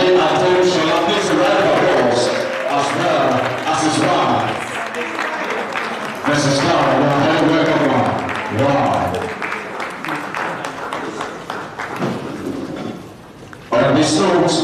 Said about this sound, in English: Please a round of applause as well as his wife.